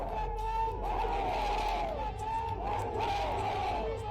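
An agitated crowd shouts during a police mock drill, a sustained roar of many raised voices with rising and falling yells over a constant low rumble, loud and continuous.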